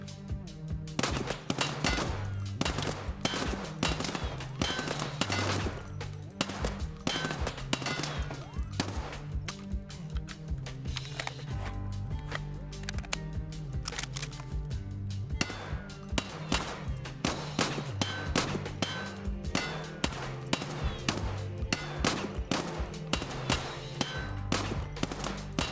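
Rapid bursts of automatic gunfire in Escape from Tarkov come in dense, loud volleys that continue almost without a break.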